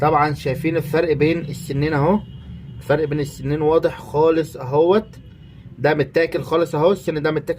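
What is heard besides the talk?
No everyday noises stand out.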